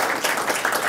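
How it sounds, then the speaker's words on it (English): An indoor audience at a university neurohackathon claps steadily in a dense round of applause, heard alone without talk. "So let's give a round of applause."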